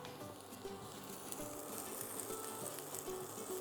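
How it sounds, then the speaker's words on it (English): A steady, close sizzle of onions frying in hot oil in a pan, with a continuous crackling hiss and occasional stirring sounds. "Just got a nice bit of heat in the pan there, we can hear the sizzle."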